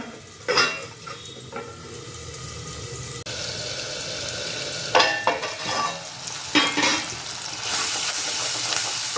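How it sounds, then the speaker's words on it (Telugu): Onions sauté in a pan over a low flame, a soft steady sizzle broken by several louder scraping stirs of a spoon against the pan, close by and without talk. "సిమ్లో కూడా పెడతాను కొంచెంసేపు, ఇంకే ఉల్లిపాయ మగ్గాలి కదా."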